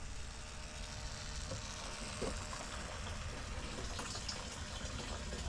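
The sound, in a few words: Camaro fuel pump pumping fuel into a container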